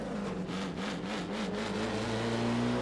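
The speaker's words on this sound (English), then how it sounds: "The car kind of bogs down and surges forward again." An Alfa Romeo 33 Stradale engine in the Assetto Corsa video game drones steadily, its pitch wobbling in a rhythmic lurch as it bogs down before climbing smoothly as the car surges forward.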